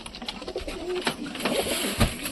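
Pigeons coo inside a pigeon loft, a close, steady, throaty murmur of several birds with small rustles and a few louder thumps.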